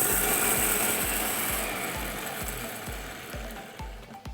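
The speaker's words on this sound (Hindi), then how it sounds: "बिना रोस्ट किए इनको ड्राई ग्राइंड करना" Mixer grinder dry-grinding unroasted yellow mustard seeds and cumin, a loud continuous motor whir with steady rhythmic pulsing as the seeds tumble in the jar, easing slightly toward the end.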